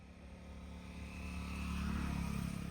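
A tractor's engine hums as the machine moves forward, its droning note growing gradually louder over a few seconds. It sounds fairly faint and distant, with no voices.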